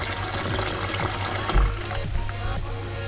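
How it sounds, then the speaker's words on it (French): A leek washed in a bowl of hot water, a continuous close sloshing and swirling of water with a few louder splashes and low gurgles, no talking. "on va laver le poireau à l'eau chaude"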